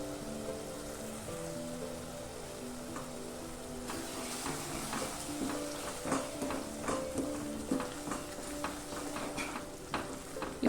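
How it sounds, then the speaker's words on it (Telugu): Onion chili paste fries in oil with turmeric and coriander powder, a low crackling sizzle that grows busier midway as stirring begins, with repeated spoon scrapes and pops close by, and a steady hum underneath. "ఇప్పుడు నూనె పైకి తేలేంత వరకు ఈ ఉల్లిగడ్డ కారాన్ని మనం మగ్గించుకోవాలి."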